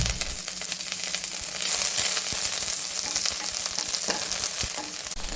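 A handful of curry leaves fries in a hot pan with black pepper and cumin, a loud, continuous sizzle dotted with crisp crackles and spatters, no voices.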